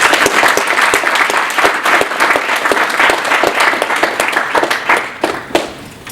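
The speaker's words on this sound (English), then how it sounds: "Let's give her a warm applause." An audience gives warm, sustained applause, dense clapping from many hands filling a hall evenly for several seconds, loud and close with no break.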